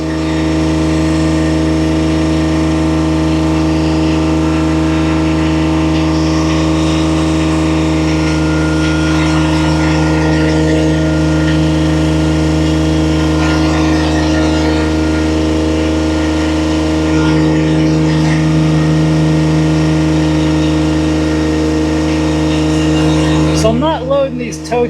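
Bobcat MT120 mini track loader engine running steadily at a constant loud drone, with a brief clatter near the end, during firewood work; a person speaks over it.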